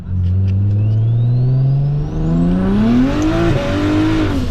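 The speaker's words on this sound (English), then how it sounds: "I'm gonna downshift real quick." A BMW 335is engine revs hard and climbs in pitch through the gears, then blips during a downshift, loud and close from inside the car, with a brief dip near the midpoint.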